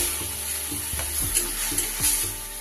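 A soft, constant sizzle of cabbage leaf paste with turmeric frying in a pan, with a few light scraping taps from stirring and no talking.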